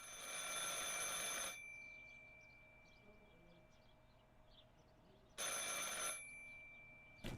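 In the video game Martha Is Dead, a telephone rings in two electronic trills that start and stop abruptly, one long and one shorter, separated by a quiet pause with faint background ambience.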